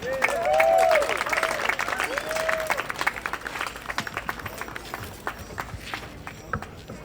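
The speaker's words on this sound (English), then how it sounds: "So let's bring him out with a round of applause." A crowd claps to welcome a seven-time world champion hoop dancer on stage at a youth hoop dance championship in Santa Fe, with steady applause running under an announcer's voice and drum-like thumps throughout.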